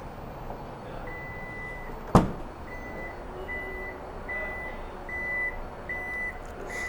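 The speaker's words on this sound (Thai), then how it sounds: "แล้ววิธีการเปิดฝาท้ายนะคะ สามารถเอาเท้าเข้าไป หรือว่าจะใช้รีโมทนะคะ" Power tailgate on a 2020 Toyota Fortuner Legender 2.8 V 4WD opening by remote, with a sharp clunk of the latch followed by a series of evenly spaced warning beeps, moderately loud and close.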